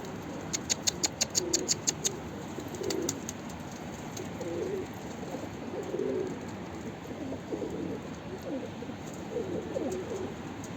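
Pigeons kept by a Turkish fancier, with a quick burst of rapid wing flapping at the start followed by soft, repeated low cooing calls at intervals against a quiet outdoor background.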